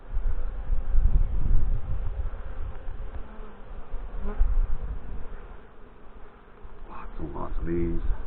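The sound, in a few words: honey bees buzzing around an open beehive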